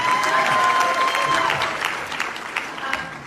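A crowd claps steadily and densely during a debate answer, a continuous roar of applause that fades slightly toward the end, with a voice murmuring faintly underneath.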